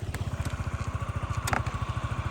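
A Yamaha Majesty 155 scooter engine idles close by with a steady, even low thumping rhythm, alone with a couple of faint clicks.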